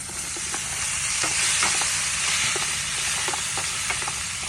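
Tomatoes go into a pan of hot ghee with cumin seeds and lightly roasted cashews, giving a steady close sizzle with small crackles and stirring scrapes, no talking.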